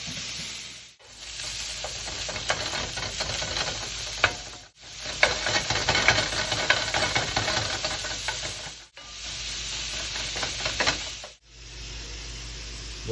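Chorizo and its peeled-off casing sizzle and crackle in a pan while being stirred, a continuous hiss with scraping clicks of the utensil, broken by a few brief pauses, with no talking.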